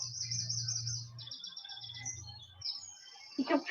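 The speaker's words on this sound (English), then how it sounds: "You can probably hear the birds tweeting." Small birds chirp and trill outdoors, faint and high-pitched, in rapid repeated notes. A low hum runs beneath them, and a louder rustle comes at the end.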